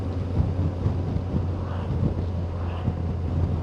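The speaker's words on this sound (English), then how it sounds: "Woo, that wind's got up there." Strong wind on a motorcycle ride in the Peak District, a loud, steady roaring buffet across the microphone with a low engine drone beneath, no talk.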